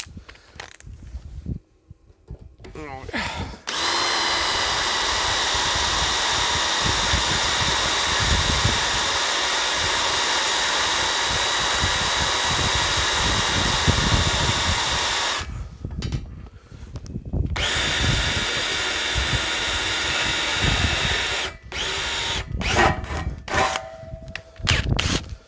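An old, worn step drill runs in bursts to deburr drilled holes in a workshop, a loud whirring grind lasting about twelve seconds, then shorter runs separated by pauses and handling clatter.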